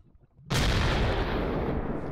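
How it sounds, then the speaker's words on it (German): A video game explosion goes off while blasting through a dark underground corner in a blocky mining game, bursting in suddenly as a loud, close boom that holds as a dense roar to the end. "Explosion!"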